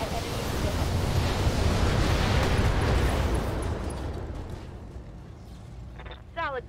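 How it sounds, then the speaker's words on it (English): BattleMech weapons fire in Battletech: a dense, roaring rush of blasts and impacts that swells and then slowly fades, followed by a brief chirping electronic sound at the end. "Firing at enemy."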